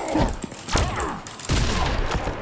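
Gunfire from a gun in the fighting video game Injustice 2 comes as a few sharp, punchy bursts over a busy game soundscape, fairly loud and close.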